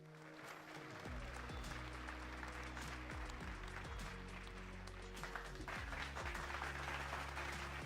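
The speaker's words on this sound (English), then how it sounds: "I'm liking the applause number 2." Applause sound effect auditioned on an iPad during game making: continuous crowd clapping plays over a low droning background with shifting tones underneath, at moderate, even loudness.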